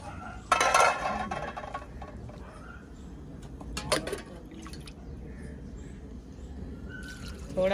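Water added to a pot of milk-based village dish with raisins and dried coconut, with a burst of pouring and splashing near the start, then soft dripping and clinking of a pot in a quiet kitchen.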